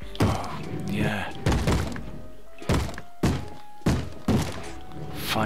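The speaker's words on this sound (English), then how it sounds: "Fire charges now make a lot of noise as well." Fire charges exploding in the Chronotide video game, a series of about seven heavy, punchy thuds at irregular intervals, loud and close, with a low voice murmuring faintly beneath.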